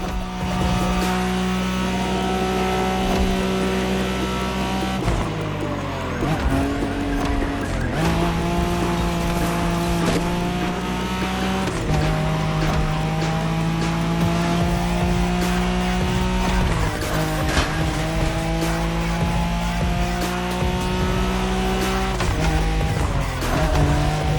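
Nissan Skyline racing hard through a midnight race in The Crew, its loud engine holding steady tones that drop at each gear shift, with tires squealing and skidding through corners over about twenty seconds, no voices.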